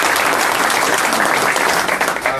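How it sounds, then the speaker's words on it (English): A crowd of workers bursts into loud, dense applause that holds steady for a couple of seconds and thins slightly at the end. "Give yourself a round of applause."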